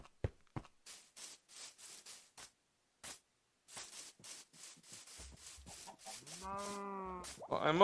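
Cows in a livestock pen inside a video game give a few low lowing calls near the end, after scattered scraping and rubbing noises, with no talk over them.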